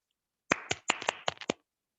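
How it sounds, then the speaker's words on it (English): Sharp, separate hand claps, about eight of them, sound close and fairly quiet over roughly a second, applause at a Toastmasters club meeting. "So can we have a round of applause for Toastmaster Komal"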